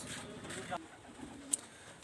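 Teddy pigeons coo softly in a few low, repeated notes, faint and close, with a sharp bright chirp near the middle against quiet background.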